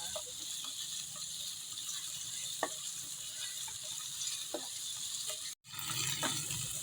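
Tomatoes sautéing in a pan for ginataang upo with shrimp, a steady soft sizzle with faint scraping and stirring clicks, broken by one brief silent gap near the end.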